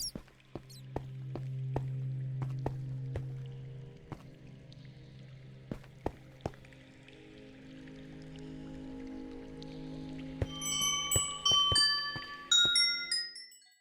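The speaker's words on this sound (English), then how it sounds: "all of us just started to go with the boat on the waterfalls" Minecraft boat sliding down waterfalls in the Caves & Cliffs update: low watery splashing hums with sharp clicky taps, then a run of bright chiming tones near the end, with no talking.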